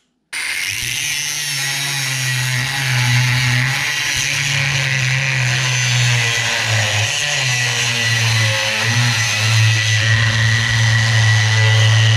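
A die grinder whines at high speed while cutting quarter-inch steel on a bench, loud and close, with a steady grinding tone that wavers slightly under load.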